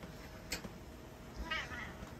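A pet cat meows indoors during a blizzard, two short, fairly quiet calls about a second apart over a low steady room hum.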